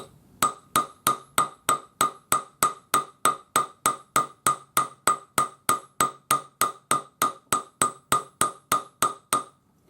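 A hammer strikes metal on a steel bench block while forging a small jeweler's hammer, about twenty-five crisp ringing blows in a steady even rhythm, close and alone.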